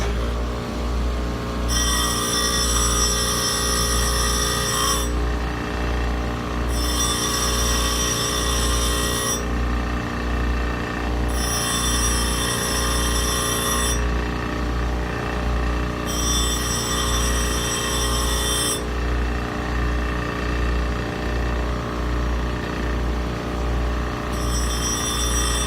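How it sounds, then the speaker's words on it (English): A drill bit is hand-ground on a bench grinder, the motor humming steadily while the bit meets the wheel in five bursts of bright grinding of several seconds each, separated by short pauses. "I'm sure everybody knows how to grind drills"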